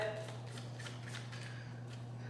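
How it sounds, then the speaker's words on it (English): Tarot cards are shuffled in several quick riffling bursts over a steady low electrical hum, close and fairly quiet, with soft flicks of the deck repeating at roughly half-second intervals. "I'm gonna do just 3 shuffles, and I'm gonna pull 3 cards"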